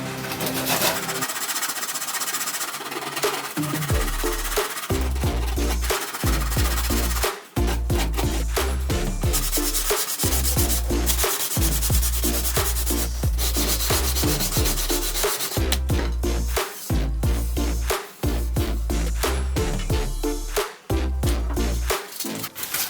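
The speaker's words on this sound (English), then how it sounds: "It's the worst sandpaper in the world, it just breaks up." Cheap sandpaper rubbed by hand over wood inside a campervan conversion, loud continuous rasping strokes with brief pauses between passes.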